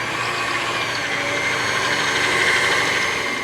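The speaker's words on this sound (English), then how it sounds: "With our whisk attachment, we're going to turn it on medium and we're going to whisk till it forms peaks" A stand mixer with a whisk attachment runs on medium speed, beating egg whites toward peaks for a raspberry lime pistachio cake; a steady, continuous motor whir holds at an even level throughout with no talking.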